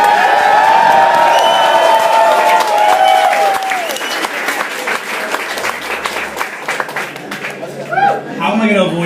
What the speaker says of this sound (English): You don't have to applaud for Gavin, but you can if you want to.